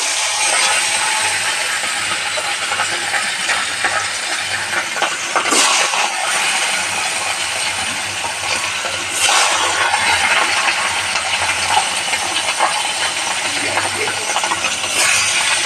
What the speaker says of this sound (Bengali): এবারে মাছগুলো আমি একে একে ভেজে নেব।